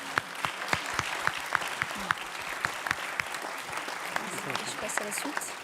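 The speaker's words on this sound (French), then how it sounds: "je vous propose d'applaudir les citoyens du Montargois" Audience in a town hall salle des fêtes applauding local citizens, a steady patter of many hands with sharper individual claps standing out, moderately loud and continuous throughout.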